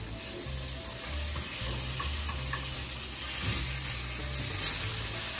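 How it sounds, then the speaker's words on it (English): Fish pieces frying in olive oil in a pan sizzle steadily up close, with soft scraping and stirring sounds as they are moved around, and no voices. "Fish. Move it around and the olive oil, everything."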